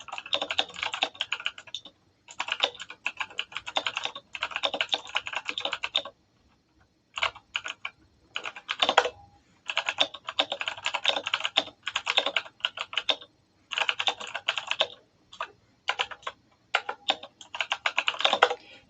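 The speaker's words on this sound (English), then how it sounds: "keyboard's very loud because it's a Razer one" A loud Razer computer keyboard clatters under fast typing, dense bursts of sharp key clicks in rapid runs separated by short pauses, close and prominent with no talking.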